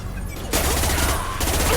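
Dense, sustained gunfire from the video game Mass Effect 2 breaks out after a half-second of quieter game ambience and keeps rattling loudly to the end, with a rapid burst of shots.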